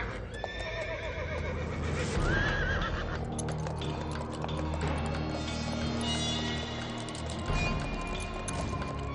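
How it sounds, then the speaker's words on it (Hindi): A horse belonging to the queen in a historical drama about the Rani of Jhansi whinnies loudly with a rising cry, over steady hooves clip-clopping close by throughout. "हे देवा, ये तो महारानी सरकार का घोड़ा है"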